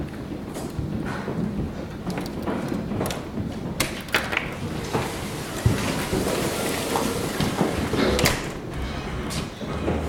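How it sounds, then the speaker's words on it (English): Heavy rain and hail pour down onto a flooding backyard in a steady, dense roar, with sharp clatters and knocks scattered throughout at close range. No one speaks. "Look at all of that rain flooding the backyard."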